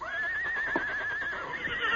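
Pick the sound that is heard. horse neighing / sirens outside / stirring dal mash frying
horse neighing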